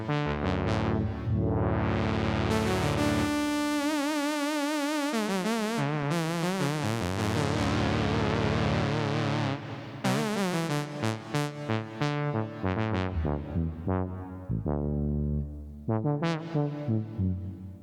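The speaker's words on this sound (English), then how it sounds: "I quite like the reverb as well." A Sequential Take 5 synthesizer plays sustained tones with shifting, wavering pitches and long reverberant tails from its reverb effect, playing alone without any voices.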